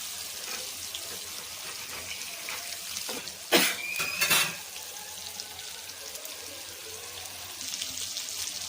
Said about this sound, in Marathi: आता पलटून घ्यायचं आपण, हलकी पलटी करून, कारण दोन्ही बाजूनी शिजवायचं आहे आपल्याला